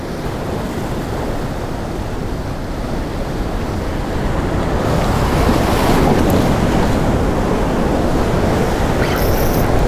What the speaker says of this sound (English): we're definitely starting to get more of that winter swell going on